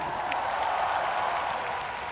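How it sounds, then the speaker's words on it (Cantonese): Applause for a girl group at a Hong Kong music awards ceremony: a steady, dense wash of crowd clapping that fills the hall evenly for about two seconds with no pauses. "俾掌聲佢哋"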